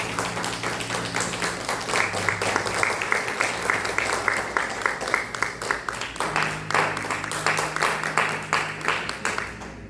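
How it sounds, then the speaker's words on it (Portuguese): A church congregation claps in a steady rhythm, the beats even and fairly close, over a sustained low musical tone that drops out and returns during the ten seconds. "dá uma linda salva de palmas para o Senhor Jesus"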